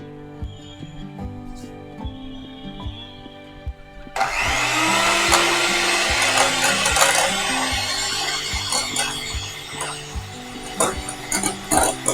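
An electric mixer beating eggs with sugar for homemade chocolate brownies: the motor starts abruptly partway through and keeps whirring loudly to the end, over background music, with some speech early on.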